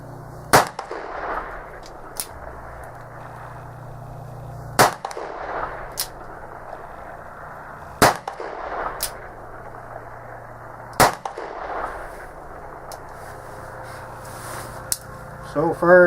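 An Uberti 1860 Army cap-and-ball revolver fired several times, sharp loud cracks spaced a few seconds apart with fainter clicks and handling noise between shots.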